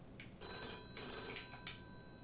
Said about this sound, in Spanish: Contesta al teléfono.